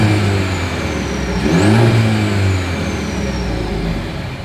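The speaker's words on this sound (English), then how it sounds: "As always, here is that exhaust clip." Exhaust of a 2024 Mercedes-Benz GLC 300, recorded close and loud as a steady engine drone that swells into a brief rev and then settles back, with no talking.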